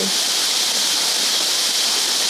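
Continuous, loud, hissing rush of flowing water, like a river or waterfall, steady and broad without pauses.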